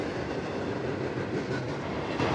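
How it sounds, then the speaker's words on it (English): BNSF Z freight train led by a C44-9W locomotive passing by, a steady rolling rumble of wagons with faint rhythmic wheel clatter, continuous and fairly close, no voices. "even though this is a Z train, a C44-9W was leading the way"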